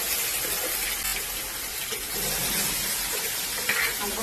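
Water poured into a pot of fish curry being cooked, a steady close splashing gush that runs unbroken for a few seconds with no voices.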